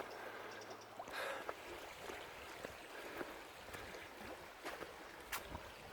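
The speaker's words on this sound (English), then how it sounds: "the sound of the river just bubbling along" A slow-flowing river in a quiet Cornish valley, with soft, continuous bubbling and trickling water heard up close, scattered with small splashes and no voices.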